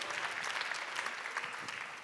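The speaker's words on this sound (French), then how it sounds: "On peut effectivement vous applaudir." Audience applause at the Tech For Future 2024 awards ceremony, dense and steady clapping from a large crowd that holds for the whole stretch at moderate level, easing slightly at the end.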